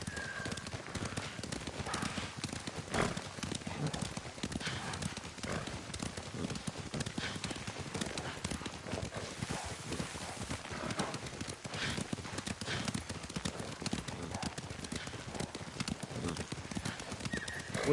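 Continuous clattering hoofbeats of horses trotting in the video game Ghost, dense and steady throughout, with a faint whinny mixed in.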